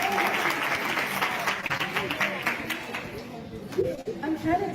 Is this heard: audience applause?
yes